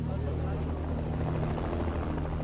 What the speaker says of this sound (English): As the chopper pulled off with the Red Cross and the representatives inside